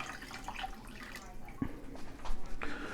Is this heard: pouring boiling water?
yes